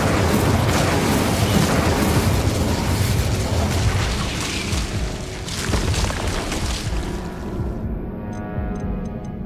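A fire spell cast in the Hogwarts Legacy video game, heard as a dense, continuous roaring burst of flame that stays loud across the whole stretch with faint ticking near the end.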